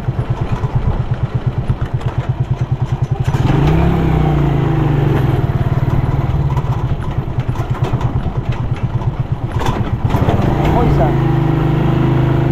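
A motorcycle engine runs nearby in a rhythmic, loud putter, revving up partway through and settling back to a steady chug. A person talks over it intermittently.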